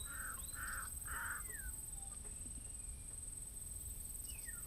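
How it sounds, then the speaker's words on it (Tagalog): A crow caws three times in quick succession near the chocolate hills of Bulacan, harsh close calls over a steady outdoor hiss, with fainter bird sounds afterward. "Ayun, may uwak."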